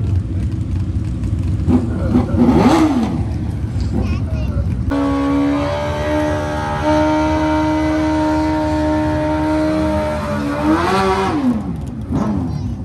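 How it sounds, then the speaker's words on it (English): A supercharged daily-driver SUV does a short burnout at the drag strip tree, its engine revving hard and then holding a loud, steady high-rpm drone before the revs climb again, with voices and other track noise around it. "Little burnout up on the tree."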